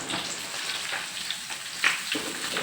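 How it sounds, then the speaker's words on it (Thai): Tilapia frying in hot oil gives a steady close crackling sizzle throughout, with a few sharper pops and spatters standing out near the end. "ใช้เวลาทอดไม่นานหรอกใช้เวลาทอดแป๊บเดียวค่ะ"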